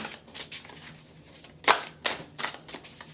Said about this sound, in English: So let's go ahead and shuffle, shuffle,